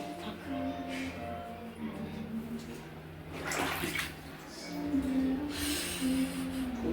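Running water pours steadily as items that fell near a drain are rinsed and washed by hand, with splashing surges midway and near the end; no clear speech.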